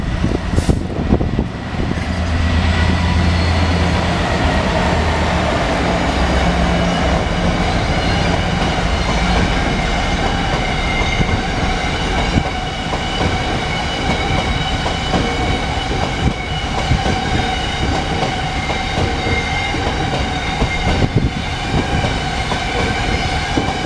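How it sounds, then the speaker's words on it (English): A test train rolls into Doncaster station with a loud, sustained rumble, rhythmic wheel clatter and a faint metallic squeal as it slows. "This is the test train coming in, terminates here and goes out again"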